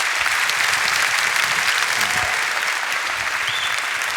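Steady, full audience applause at an evening event with Richard Dawkins and Brian Greene, a dense wash of many clapping hands that holds evenly throughout with no voices on top.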